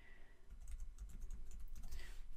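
Someone types text on a computer keyboard in a quick, steady run of close key clicks over low background hum, and nobody speaks.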